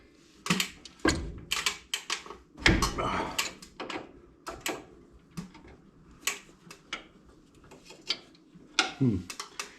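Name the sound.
loosening brake hose fitting at wheel cylinder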